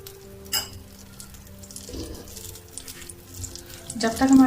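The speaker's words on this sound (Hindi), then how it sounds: "कढ़ाई में मैं 3 टेबलस्पून बटर डाल रही हूँ" Three tablespoons of butter melting in a kadhai give a low, soft sizzle, with a scrape of utensils, brief clatter, and a short tonal clink near the end.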